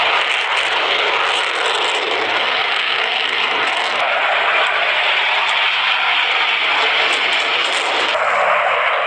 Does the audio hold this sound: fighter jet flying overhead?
yes